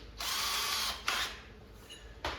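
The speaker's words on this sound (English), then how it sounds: "Drill a little pilot hole." Power drill boring a pilot hole in an arcade cabinet panel: a near, loud whirring burst, then two shorter bursts, with no talking.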